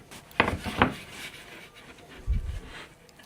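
Hardwood edging strips for a veneered wall cabinet being trimmed by hand, with two sharp scraping rasps close together and a duller rub a moment later, close and fairly quiet, with no talking.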